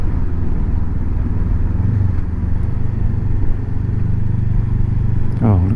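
Motorcycle engines rumble steadily on a busy Swiss mountain pass road near the Furka, Grimsel and Susten passes, a continuous loud drone with one bike revving sharply past near the end.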